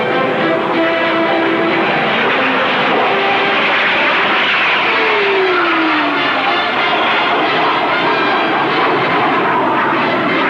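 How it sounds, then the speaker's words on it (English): Sabre jets roar past at a 1953 air show, a loud, continuous jet rumble with a slowly falling whine throughout. "By an air show of famous Sabre jets."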